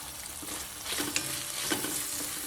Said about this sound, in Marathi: 2-3 मिनिटं परतून घेते.